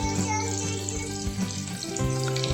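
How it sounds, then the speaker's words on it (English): Chopped onions fry in desi ghee or oil in a pan, a close, moderate sizzle with soft stirring clinks and scrapes over the short stretch, no talking. "Toss in your chopped onions. Stir them continuously for 3 to 4 minutes."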